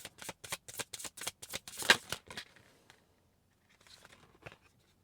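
Tarot cards are shuffled in a quick run of crisp riffling snaps, each one close and distinct, then go quiet before a few soft slides and flicks as cards are drawn.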